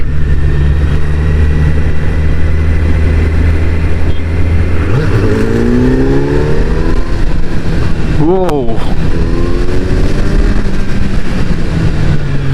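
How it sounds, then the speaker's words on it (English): A Kawasaki Z streetfighter motorcycle engine roars close by, revving up in rising and falling sweeps, with a brief exclamation from a voice partway through. "when you hear the roar emitting from the engine, it's very distinct"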